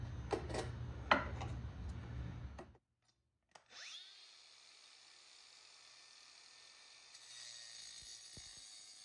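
A cutter bites into a seized leaf spring shackle bolt: a short burst of grinding and rattling, then a brief pause, then a thin high-pitched whine that keeps running steadily at close range.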